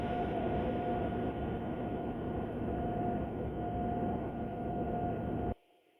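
Steady, loud rumbling drone of a Class 185 TransPennine Express train running, heard from inside a carriage, which cuts off abruptly near the end to near silence.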